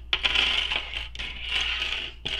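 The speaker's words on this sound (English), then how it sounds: "Now I'm going to add some clips" Sewing clips snap onto fabric beside a zipper window on a wristlet being made, giving a string of light clicky, rustling taps close up with short pauses between them.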